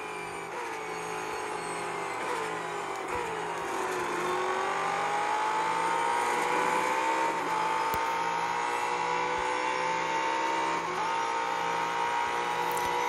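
An in-car race car engine in a video game roars steadily from inside the cockpit, pitch dipping and then climbing as it revs, loud and continuous with no talking.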